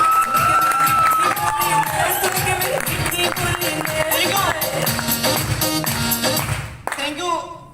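Loud crowd clapping and cheering at a network marketing core meeting in Lucknow, a dense, energetic burst with voices mixed in that cuts off sharply near the end.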